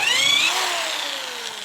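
A Hyper Tough corded drill with a 1/2 inch bit bores into lumber, its motor whine dropping steadily in pitch as it bogs down under load, loud and close for the whole stretch.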